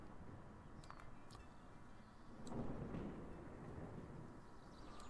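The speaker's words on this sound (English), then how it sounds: "And right on cue there is thunder." A low rumble of thunder rolls through the game Life Is Feudal, swelling midway and then fading into steady background ambience, faint and distant with no talking.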